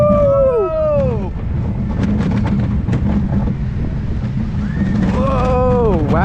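Riding a wild mouse roller coaster at Gröna Lund in Stockholm, a loud continuous rumble of wheels and wind with squealing wheel tones sweeping through the turns at the start and end, while a rider talks.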